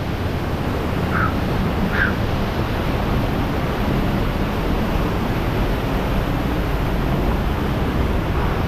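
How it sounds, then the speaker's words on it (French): Small waterfall in the Opedette gorges: a steady, broadband rush of falling water, continuous and fairly close, with a couple of faint brief chirps early on and no talking. "On voit la petite cascade."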